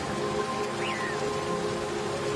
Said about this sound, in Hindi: जैसे जैसे बारिश तेज होती गई, बारिश का पानी पंछियों के घोंसलों तक पहुंचने लगा।